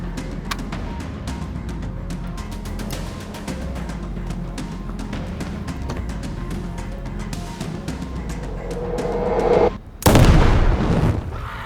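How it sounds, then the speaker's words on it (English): Explosions and gunfire-like bursts in an action movie scene, a rapid run of sharp cracks and booms over a low rumble, ending in a big loud blast near the end. "It's fireworks time."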